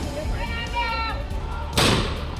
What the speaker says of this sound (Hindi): नासिक के काठे गली में पत्थरबाजी कर रही भीड़ पर पुलिस ने आंसू गैस के गोले छोड़े।